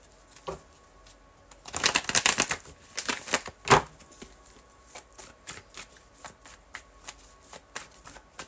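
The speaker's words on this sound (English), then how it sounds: "I'm gonna pull 10 cards from a different deck." Tarot cards are shuffled by hand in a dense, riffling flurry, followed by a series of lighter, evenly spaced taps and flicks as individual cards are handled.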